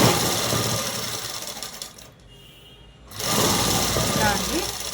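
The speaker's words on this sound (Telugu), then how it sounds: "ఇలా ఇలా జరిపి కుట్టు వేసుకుంటూ" Sewing machine stitching cloth while a dress top is made, a steady loud mechanical whir that stops briefly for about a second and then resumes.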